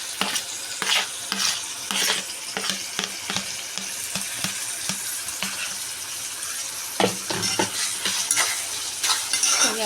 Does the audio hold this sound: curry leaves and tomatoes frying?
yes